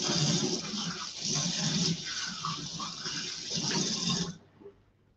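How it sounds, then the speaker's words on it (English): Hands washed under a running kitchen tap, a steady close rush and splash of water for about four seconds before it cuts off, with no talking. "Just going to wash my hands."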